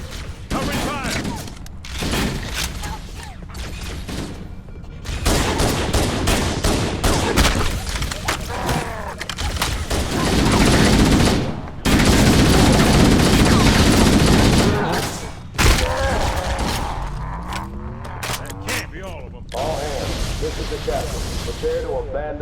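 Heavy covering gunfire erupts in Halo: Combat Evolved Anniversary, with dense bursts of rifle fire and booming impacts during a shipboard fight with the Covenant, loud and continuous with voices calling out over it.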